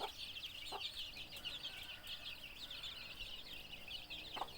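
Chickens and ducks in a coop at feeding time, with continuous soft clucking and chatter from the flock, a few sharper calls, all fairly faint and without voices.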